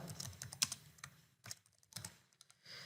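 A file name is typed on a computer keyboard: quick, irregular clusters of close key clicks with short pauses between bursts, alone with no talking.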